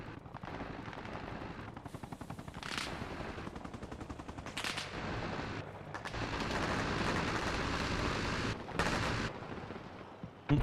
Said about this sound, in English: what sounds like an LMG of some description